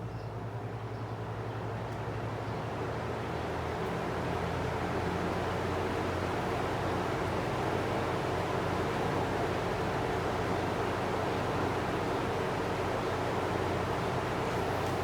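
A vintage Lakewood box fan set to reverse on its low speed gives a steady, even broadband whir with a low hum, constant and unbroken throughout, with no voices.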